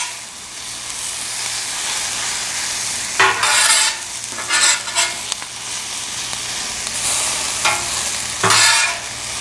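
Chicken pieces and tender-crisp vegetables sizzling loudly in a pan during off-grid cooking, a constant frying hiss broken by several bursts of stirring and scraping.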